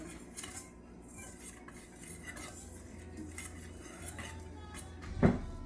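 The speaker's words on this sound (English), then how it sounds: "whisk to combine well" A whisk clatters against a bowl while a mixture is stirred together, the repeated scraping strokes steady and close, ending in a sharper clink.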